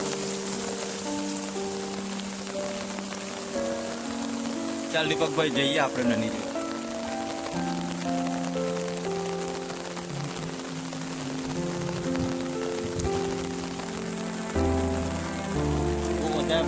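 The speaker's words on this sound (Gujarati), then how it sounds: "બહુ વધારે મોટો વરસાદ પડે છે અહીંયા." Heavy rain falls steadily in Gadod village, a dense constant hiss on the ground and surfaces, with someone talking over it.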